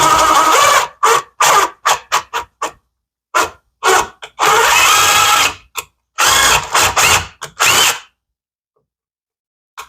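A power drill drives screws through a window shutter frame into drywall and corner bead, loud close bursts of whirring in short and longer pulses with brief stops between, ending in silence.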